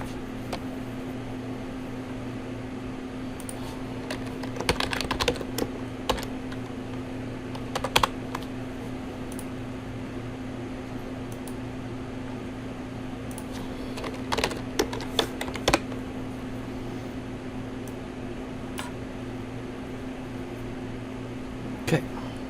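Computer keyboard typing while a new account password is created, scattered bursts of quick keystrokes over a steady electrical hum, with occasional talk nearby.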